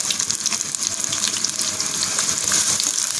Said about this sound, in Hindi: ये तो यहाँ हमने घी गर्म कर लिया और उसके बाद हमने इसमें प्याज ऐड कर लिए